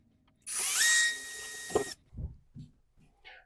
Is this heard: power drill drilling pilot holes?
yes